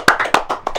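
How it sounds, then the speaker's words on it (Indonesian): Brief applause for a participant at a youth talk event, a quick burst of several sharp claps at an irregular rhythm, close by. "Oke, tepuk tangan untuk Alfa."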